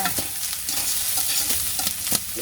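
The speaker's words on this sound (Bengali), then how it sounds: "এখন ভাজি করো ভেন্ডি ভেন্ডি ভাজা" Okra frying in a pan, a steady sizzle broken by repeated scrapes and clinks of a spatula stirring.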